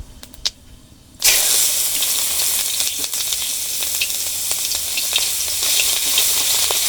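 Garlic paste hits hot mustard oil in a wok, bursting into a loud, steady sizzle that stays dense and even after a quiet opening second.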